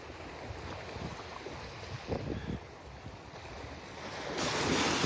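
Gentle waves wash onto the beach at Delnor-Wiggins Pass on a calm morning near low tide, a soft rolling surf under light wind noise that swells louder toward the end.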